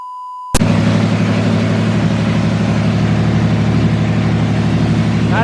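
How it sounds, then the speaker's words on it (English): After a brief tone, an Infiniti Q50 with an ISR single-exit GT exhaust starts idling with a deep, loud, steady exhaust rumble close by, with no speech. "this is the ISR single exit GT exhaust in the car"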